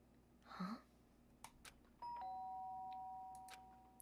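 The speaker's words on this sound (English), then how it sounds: "The sharp sound of the doorbell pierced my sleepy haze and pulled me back to the real world." A doorbell rings in the video game Danganronpa: Trigger Happy Havoc, a clear electronic chime with one short tone and then a long sustained tone that fades slowly, heard alone over a low background hum.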